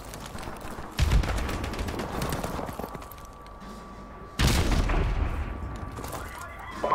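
Rapid bursts of gunfire ring out in Modern Warfare Remastered, two loud clusters of quick shots with a lower background of game noise and a faint voice in between.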